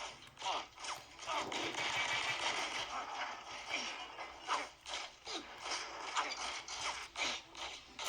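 Rapid gunfire from the action video game John Woo Stranglehold, running on the RPCSX emulator: a dense, continuous clatter of overlapping shots with sharp bursts recurring every half-second or so, moderately quiet and steady throughout with no voices.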